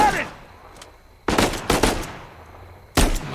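Machine gun fire from the action game Uncharted 4: loud close bursts of rapid shots in a few clusters, with gaps of quieter in-game ambience between them.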